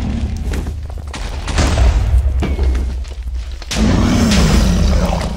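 A gun firing in the RageCraft Minecraft modpack, heard as loud, heavy booming bursts of close shots, one cluster near the middle and another toward the end, with rumbling thuds between them.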